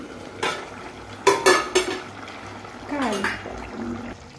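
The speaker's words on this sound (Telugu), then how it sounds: "ఉడికిందో లేదో మూత తీసి చూద్దామండి ఒకసారి" A metal lid clinks and scrapes as it is lifted off a pot of chicken and drumstick curry, followed by soft stirring and bubbling; a voice speaks briefly nearby.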